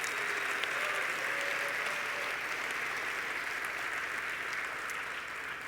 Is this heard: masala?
no